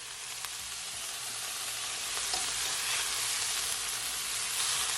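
Stir-fried vegetables sizzle loudly and steadily in a hot pan, a dense continuous frying hiss with a few scraping stirs as they are moved to a plate.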